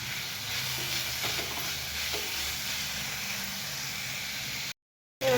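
Onion and tomato fry in a pan with salt, a constant close sizzle with faint stirring scrapes underneath, cut by a short silent gap just before the end, with no speech.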